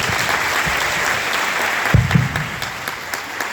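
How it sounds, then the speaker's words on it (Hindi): A crowd at an RCM gathering in Lucknow claps steadily for Yuvraj Sharma as he takes the microphone, a continuous wash of applause with a brief louder burst midway. "तो युवराज शर्मा, आप सबकी जोरदार तालियों के साथ"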